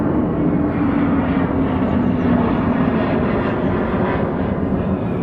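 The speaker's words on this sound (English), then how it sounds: "There's the F-15 coming in, has asked for a full stop." Military fighter jets, an F-15 and an F-35, at RAF Lakenheath produce a steady, broad roar of jet engines overhead, loud and unbroken throughout without clear speech.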